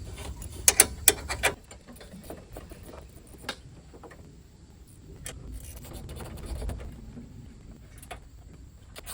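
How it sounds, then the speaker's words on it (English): A 10mm ratcheting wrench working on dashboard bolts in a 2002-2005 Dodge Ram, with clustered metallic ratchet clicks and taps, some sharp bursts early and lighter ticking after, close up with no voices. "Got a 10mm ratcheting wrench."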